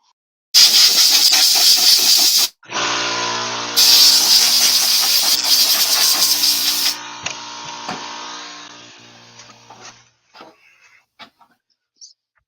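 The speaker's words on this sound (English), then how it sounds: "I need to go out and turn on the compressor." Loud, close air compressor that bursts into a harsh hissing roar, cuts out briefly, restarts with a strong motor drone and hiss, then winds down with a few clanks before falling silent.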